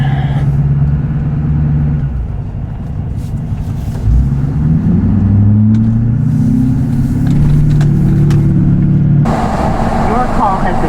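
A truck engine revs loudly and repeatedly at close range, its note rising and falling in sustained surges, with people talking over it.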